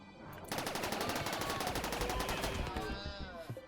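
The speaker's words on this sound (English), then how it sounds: "The best part is the turrets shoot by themselves." Automatic turrets in the video game Rimworld fire in rapid, continuous bursts of gunfire, a loud rattling stream of shots lasting about three seconds.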